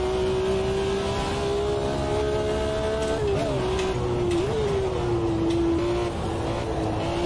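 A manual H-pattern gearbox car engine holds a steady, loud, close drone, with two quick throttle blips rising and falling partway through as it is worked for heel-and-toe downshifting.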